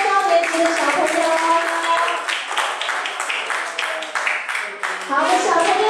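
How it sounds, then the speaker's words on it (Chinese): Applause at an elementary school gathering in Taiwan honours the middle- and upper-grade children, a dense, steady patter of many hands filling the room, with voices and some tonal sound mixed in. "来，我们再次热烈的掌声，谢谢我们中高年级的小朋友。"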